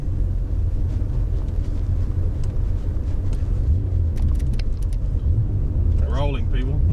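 A turbocharged V12 Toyota Cressida rolls along with a steady low engine rumble inside the cabin, while people talk over it and something squeaks briefly near the end.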